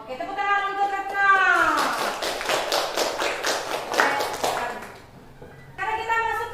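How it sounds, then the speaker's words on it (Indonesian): Classroom students clap hands together in a brief burst of tapping between stretches of a teacher's speech in Indonesian, the claps moderately loud and close, overlapping a voice. "tepuk tangan untuk Retno"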